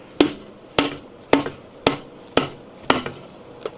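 Hammer striking a metal part onto dowels on a 1972 Harley-Davidson XLCH transmission, seven sharp evenly spaced blows, close and loud, with ringing decay and no talk.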